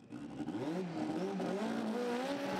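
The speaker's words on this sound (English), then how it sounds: "What's it like driving up the track then in an absolute standard road car?" A completely standard road car drives up a drag strip, its engine note rising steadily and holding loud and close throughout, with no voices over it.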